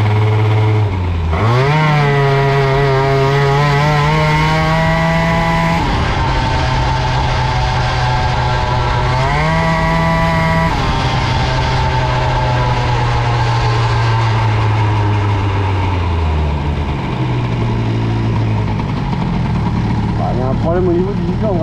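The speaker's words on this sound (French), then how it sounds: "Au niveau du moteur au ralenti, hein, je sens bien, dès que je coupe les gaz, le moteur s'appauvrit." Moped engine fitted with an Airsal XT 77 kit with a 15 PHBG carburettor, revving up and dropping back to idle several times in a loud, continuous run, while someone talks over it throughout.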